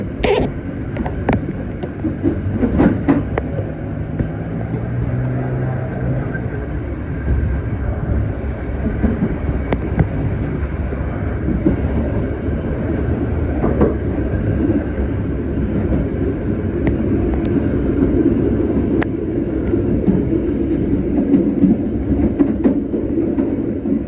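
A Commuter Line Supas train runs on the Surabaya–Probolinggo route, heard from inside with a continuous rumbling roar, rhythmic rail clatter and occasional squeals and knocks, loud and steady throughout.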